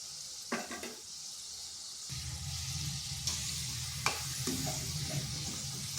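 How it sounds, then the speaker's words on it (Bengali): Semolina and curd snack pieces frying and being stirred in a pan over slow to medium heat, a steady close sizzle with scraping stir strokes and a few sharp utensil knocks, no talking. "এইভাবে নেড়ে চেড়ে ভেজে নিয়েছি"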